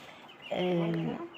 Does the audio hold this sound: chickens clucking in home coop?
yes